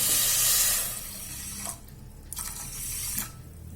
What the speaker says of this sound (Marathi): त्यामध्ये मी एक वाटी पाणी टाकत आहे